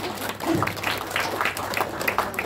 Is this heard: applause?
yes